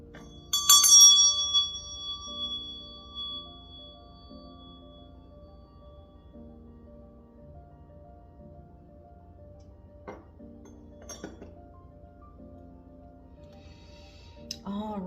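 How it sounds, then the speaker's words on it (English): A meditation bell is struck once near the start, its bright ringing tone sustaining and slowly decaying over a low background hum, with faint clinks and room sounds later. "I'm going to ring my meditation bell."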